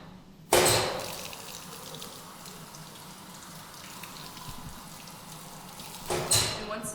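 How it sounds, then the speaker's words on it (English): A tap is turned on and water runs steadily for several seconds to wet arms before scrubbing, a close, even hiss of flowing water that starts abruptly and swells briefly again near the end. "So we're just going to turn on the water to wet our arms."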